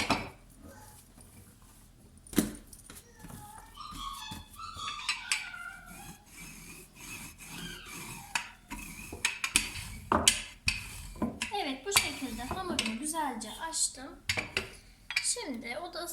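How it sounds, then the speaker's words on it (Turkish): Turkish açma dough rolled thin with a long rod rolling pin on a work surface: irregular knocks, taps and rattling clatter at close range, with no voices. "Ben merdaneyle açacağım."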